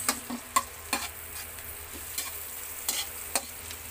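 Ginger and onion sauté in a hot pan for a spicy tomato chicken soup, with a soft steady sizzle broken by sharp scrapes and knocks of a spatula stirring at irregular intervals, fairly quiet and close.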